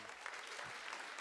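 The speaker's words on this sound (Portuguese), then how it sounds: "Pode aplaudir ao Senhor." Church congregation applauding during a summer celebration service, a short burst of dense, steady clapping that fills the room with no voices standing out.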